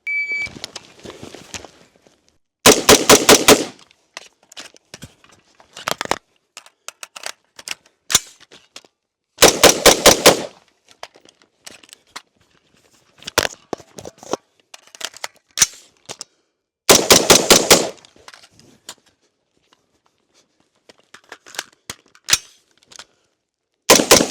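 Rapid fire from an Andro Army ACI-15 rifle comes in three separate volleys of about five quick shots each, with scattered clicks and handling noises between bursts.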